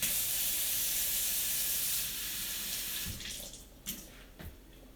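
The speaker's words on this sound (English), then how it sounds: "And I need a little bowl of water." Water from a tap gushes steadily into a small bowl for about three seconds, then stops, leaving a few faint drips and clinks.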